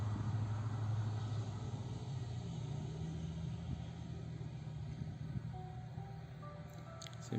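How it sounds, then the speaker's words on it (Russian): A low, steady road rumble of cars passing on a road behind a field hums in the background, fairly faint, with no talking. "Сзади меня дорога, поэтому слышно проезжающие автомобили."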